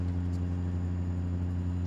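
A Caterpillar C15 diesel engine in a truck in American Truck Simulator drones at a steady, deep rumble with strong low harmonics, continuous and even with no voices over it.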